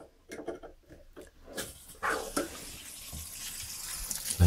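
A toilet cistern refills through a newly fitted Fluidmaster Quiet Fill valve, water first hissing in short bursts, then running as a steady, quiet rush that grows slightly toward the end.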